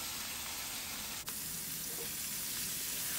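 Steady, faint sizzle of mutton liver (kaleji) frying in oil over a medium flame, an even hiss throughout with one tiny click near the start.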